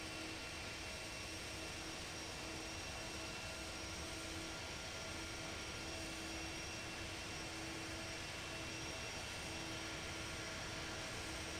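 A Delta jet airliner takes off on runway 24 left at LAX, heard as a continuous broadband engine roar that holds steady throughout without breaks or voices.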